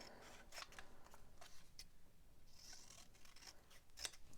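Scissors snip through paper to cut flower petals, a series of quick, close, crisp cuts at an uneven, brisk pace, fairly quiet with soft rustling between strokes and no speech.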